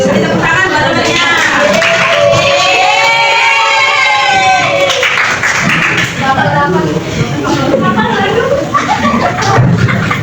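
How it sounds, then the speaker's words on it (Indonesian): A classroom of students claps together while voices chatter and call out over the applause, a dense burst of hand claps that thins out toward the end. "Tepuk tangan barunya."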